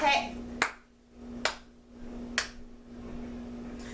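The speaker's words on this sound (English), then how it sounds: "Sometimes when you do the slow clap, you just don't want to stop." Three slow, deliberate hand claps spaced almost a second apart, sharp and close, each ringing briefly over a faint steady hum, with a voice at the very start.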